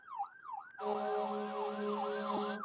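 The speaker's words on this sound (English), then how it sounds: "You don't see that big ambulance right there." An ambulance siren passes outside on the street, a wailing tone sweeping up and down, joined by a louder steady horn-like blare after the first second, fairly close and heard alone.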